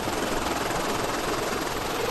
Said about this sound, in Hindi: दर्जनों हेलीकॉप्टरों की ये फौज एक खास मकसद को पूरा करने के लिए निकली है